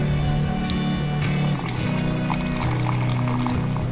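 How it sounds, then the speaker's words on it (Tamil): Cooled malai kulfi mixture pours steadily into a blender jar, a continuous close liquid splashing with a faint tonal hum underneath. "இப்போ இதை வந்து ஒரு ஜாரில் ஆட் பண்ணிக்கலாம்."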